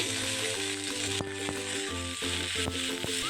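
Onion, ginger, garlic and cashew pieces sautéing in a small spoonful of oil for veg Kolhapuri, giving a steady close sizzle with a few light utensil taps and scrapes.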